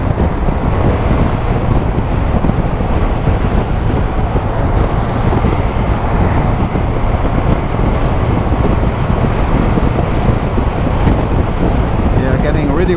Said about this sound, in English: getting really windy now